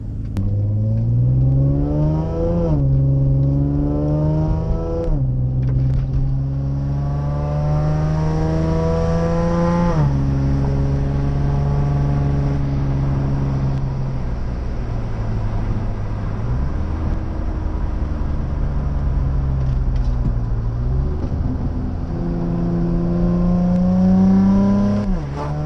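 Nissan 350Z VQ35 engine with a test pipe and stock muffler revving repeatedly, rising and falling in loud sweeping pulls with an occasional exhaust pop, no voices over it.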